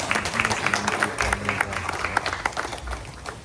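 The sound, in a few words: audience applause at a funeral ceremony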